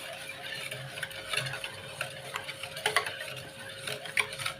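Spoon stirring aval milk, a beaten rice milk drink, in a cup or pot, giving light repeated clinks and scrapes close up at a steady moderate level with no talk.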